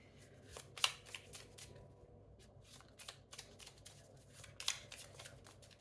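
Oracle cards are shuffled and laid out for a cross-shaped reading: soft, close riffling and slapping bursts at irregular intervals, with a couple of sharper snaps, fairly faint and without talk.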